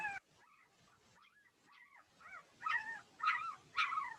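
Newborn puppies near their mother give soft whimpers and high yips, a few thin cries at first, then louder repeated squeaky yelps rising toward the end, close and alone.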